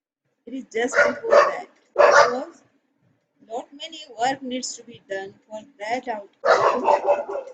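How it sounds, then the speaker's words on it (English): Dogs barking indoors, sharp barks mixed in with someone talking steadily in a home setting, the barking and speech overlapping and fairly loud. "Sorry about my dogs."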